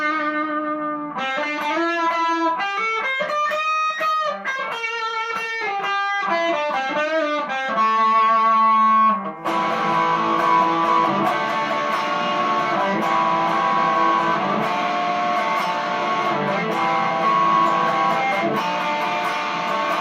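Electric guitar run through a distortion effect, first a string of picked single notes and short melodic phrases, then a loud, thick sustained distorted chord wash, close and unaccompanied.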